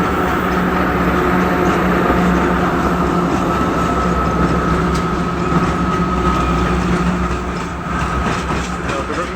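A rare 3M62U diesel locomotive hauls a heavy train up a steep grade, its engine droning low and steady while the wagons rumble and clatter past close by, continuous throughout.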